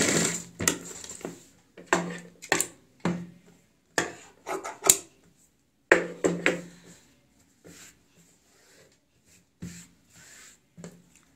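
A sewing machine topstitching a kurti button placket runs in short irregular bursts of stitching, with clicks and taps between runs and quiet gaps, close by and with no talking.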